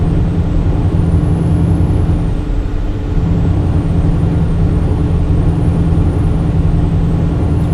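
A bus slowing on a slope gives a loud, steady engine and road rumble heard from inside, with a faint high whine rising and falling throughout and no talking.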